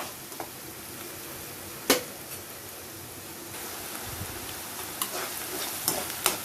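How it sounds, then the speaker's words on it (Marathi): Chopped onion sautéing in a pan over a medium gas flame, a steady soft sizzle running throughout with occasional sharp clicks and scrapes of stirring, close and fairly quiet with no talk. "तीन 4 मिनिटं आपण कांदा परतून घ्यायचा"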